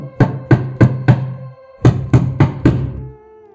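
Two bursts of four firm knocks each sound on a wooden door, close, loud and evenly spaced, with a short pause between the sets and no one talking.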